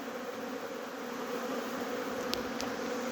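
Honeybees (Apis mellifera) buzz steadily at the hive entrance on a morning of young-bee orientation flights and pollen foraging, a dense continuous drone with a couple of brief high clicks near the end and no talk.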